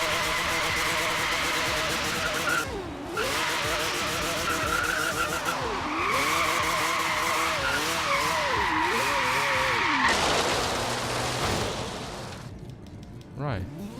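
A four-rotor Mazda Miata drifts in Forza Horizon 3, its engine wailing and rising and falling in pitch through repeated revs. Loud continuous tire squeal runs beneath it, and the roar fades toward the end.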